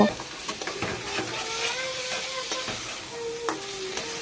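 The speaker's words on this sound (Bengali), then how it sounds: "মশলার সঙ্গে কলাগুলোকেও ভালো করে কষে নিচ্ছি আস্তে আস্তে" Raw banana pieces fry in a spice masala while a spoon stirs them slowly. Close, steady sizzling runs throughout, with regular scraping strokes of the spoon against the pan.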